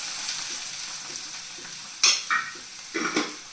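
Chopped tomato frying in a pan for a paneer dish, a soft steady sizzle broken by a few sharp scraping stirs near the end, close and clear, no voices.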